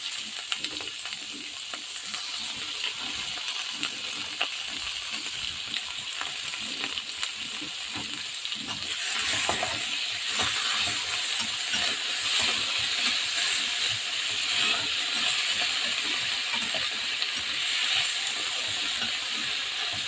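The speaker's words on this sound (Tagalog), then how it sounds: "Ngayon, lalagay natin yung kamatis na ginayat ko." Chopped tomatoes fry in a small amount of oil, giving a steady close sizzle and hiss that swells louder partway through as the pan is stirred, with no talking.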